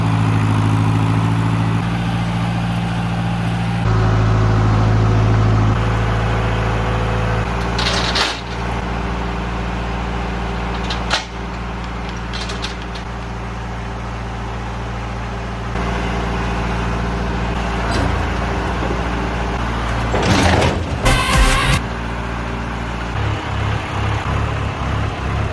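A tractor engine runs steadily near a Chevy squarebody build with a small-block 350, giving a loud, low idling rumble that shifts in pitch now and then. Occasional metallic clanks cut through the drone.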